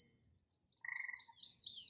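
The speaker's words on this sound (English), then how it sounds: "the gray tree frog that is singing" A gray tree frog sings outdoors in a series of rising, buzzy trills that grow louder and denser, fairly close against a quiet backdrop.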